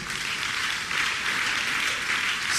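A church congregation applauds during a sermon on marriage, a steady, dense wash of clapping that holds evenly throughout and swells slightly toward the end, with no voice over it.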